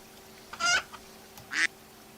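Two short, sharp squawking bird calls, spaced about a second apart, come from a homemade video game, standing alone over a quiet background hum.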